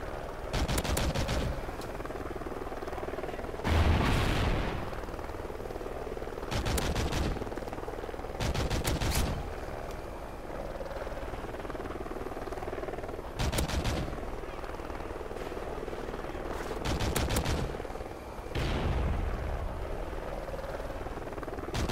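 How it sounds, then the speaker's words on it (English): Friendly helicopter rotor drone under repeated bursts of automatic gunfire in the Call of Duty Ghosts video game; a steady whirring bed broken by about six sharp, loud volleys spread evenly through the stretch. "Friendly helo pilot active."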